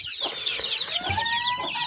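Chickens clucking steadily up close, a busy overlapping chorus of clucks and squawks with no talking.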